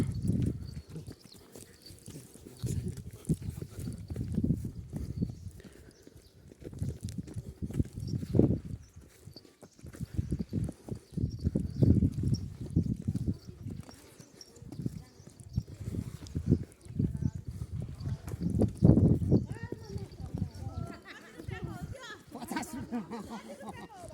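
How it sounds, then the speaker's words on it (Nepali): A horse walks along a pilgrimage trail near a Shiva temple, its hooves clip-clopping in a loose, uneven rhythm that is largely buried under steady chatter and talking from people nearby. "चल घोडा चल चल।"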